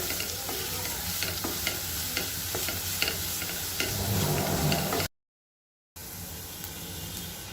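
A large batch of onions sautéed in a pan until golden brown at a food stall, with a constant dense sizzle and frequent stirring scrapes, briefly cutting to silence before the frying resumes.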